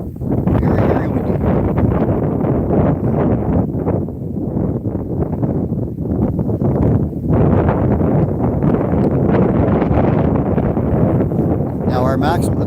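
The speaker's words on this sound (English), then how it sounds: "Very windy." Strong outdoor wind at night in Atlantic Canada, heavy low buffeting and rumble against the microphone that persists throughout, with a voice speaking over it.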